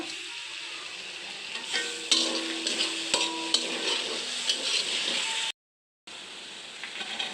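Chicken fries and sizzles in a pan while being stirred with soy sauce, a steady close crackle broken by scraping strokes of a utensil, then a brief cut to silence before the sizzling resumes.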